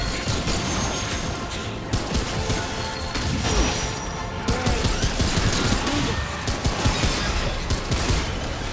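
Dense, continuous gunfire in Remnant 2 on PS5, a sustained barrage of rapid shots and crashing impacts that stays loud and busy throughout.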